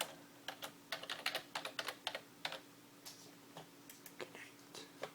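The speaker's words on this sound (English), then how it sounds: "Type in your IP address, your host name." Rapid, uneven keystrokes on a computer keyboard, close and fairly quiet, coming in short bursts with small pauses against a faint steady hum, and no voice.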